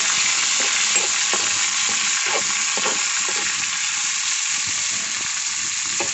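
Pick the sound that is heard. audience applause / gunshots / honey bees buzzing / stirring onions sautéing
stirring onions sautéing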